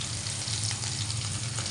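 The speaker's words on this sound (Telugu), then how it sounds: "కొంచెం ఆనియన్స్ ఫ్రై అయ్యేటప్పుడే కరివేపాకు కూడా వేసేస్తున్నాం." Onions and curry leaves frying in a pan, a dense, even sizzle with a low hum underneath, steady and close throughout, no talking.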